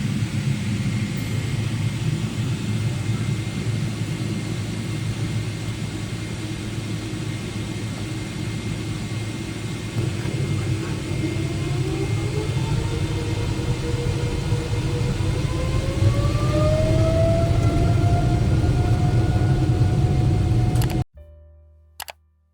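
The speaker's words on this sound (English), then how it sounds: "here's the takeoff roll as we blasted out of Auckland Airport." Qatar Airways airliner on its takeoff roll at Auckland Airport, heard from inside the cabin as a loud, steady engine roar and rumble with a rising whine toward the end before it cuts off.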